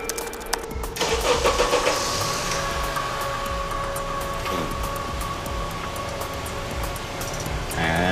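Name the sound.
car engine started remotely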